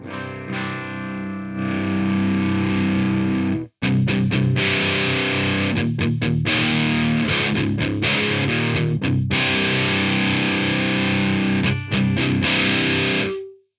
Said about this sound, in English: already we can start hearing it adding a lot of effects.